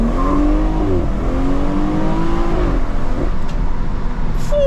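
A BMW M240i with the B58 engine accelerates from 0 to 60, loud engine note climbing in pitch through several gear changes, heard from inside the car with no speech.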